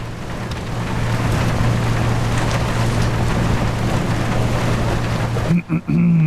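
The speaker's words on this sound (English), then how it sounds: "these are like 2 meter waves at least." Rough sea in the Seafarer ship sim game, roughly two-metre waves washing steadily around a ship with a low engine hum underneath, a loud continuous wash that breaks off near the end.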